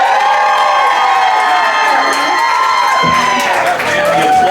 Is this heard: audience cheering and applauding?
yes